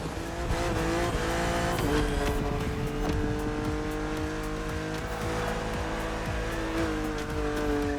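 A BMW Z4 E89 races in a video game, its engine holding a steady, loud drone with shifting pitch and brief tire squeals, continuous with no talk.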